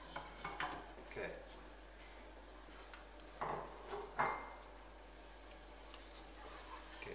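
Spoon stirring food in a pan while cooking shakshouka, a few soft scrapes and clinks scattered between quiet pauses, faint and close.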